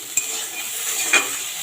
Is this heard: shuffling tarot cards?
no